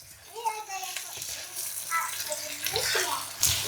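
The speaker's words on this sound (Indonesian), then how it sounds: "Kasih air sedikit aja ya, biar lebih buat nyampurin si bumbunya tadi." Water is poured into a pan while lokio with rebon shrimp cooks, a close, splashing trickle that rises and falls in short bursts under a voice and a child's chatter.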